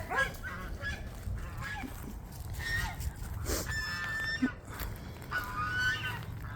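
Young geese under a year old honk repeatedly on a small farm, a cluster of nasal calls overlapping near and far amid other farmyard fowl.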